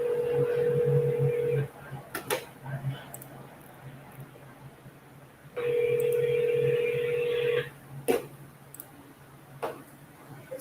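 An outgoing telephone call, with two bursts of steady dialing or ringback tone separated by a pause and scattered sharp clicks and ticks from the handset, fairly quiet beneath a faint background hum.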